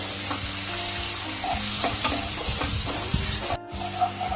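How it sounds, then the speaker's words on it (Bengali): Sliced onion frying in hot oil in a pan, a continuous bright sizzle with intermittent scraping stirs, loud and close, cutting off briefly before the sizzling resumes. "তেলের মধ্যে দিয়ে দেবো কেটে রাখা একটা পেঁয়াজ। পেঁয়াজটা একটু লাল করে ভেজে নেব।"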